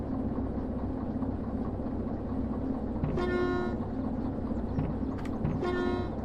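A train horn sounds in a train simulator game over a steady rumbling engine bed, with two distinct blasts, the second shorter, and no talking.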